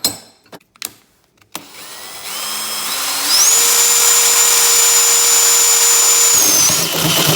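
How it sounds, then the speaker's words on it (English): A few sharp clanks, then a power drill spins up and whines steadily at high pitch, boring a hole through metal held in a vise for an exhaust pipe, before winding down. "drill a hole so the exhaust pipe will pass through"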